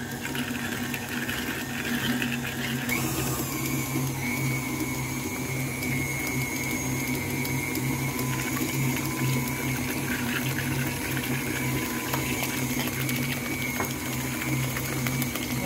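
An electric mixer whirs steadily while beating cake batter of butter and eggs for a red velvet cake, a constant mechanical hum with a slight change in pitch near the start, close and alone with no talking.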